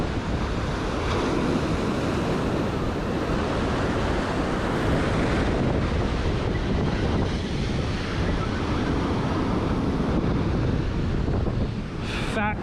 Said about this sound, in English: So when the waves are crashing, it's not taking my line and shoving it right into the sand